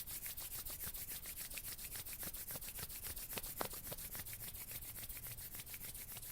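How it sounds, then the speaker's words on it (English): Palms rub briskly together during a gentle yoga session, a close, steady, fast swishing that keeps one even rhythm throughout, with no talking. "rub the hands together."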